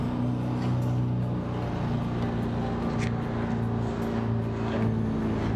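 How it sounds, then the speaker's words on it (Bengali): Steady motorboat engine drone with strong low harmonic hum, continuous and fairly loud throughout, heard from aboard a boat while underway during travel in Pakistan. "আবার আমি আমার বুটটা চালাবো, আপনারা দেখতে থাকেন।"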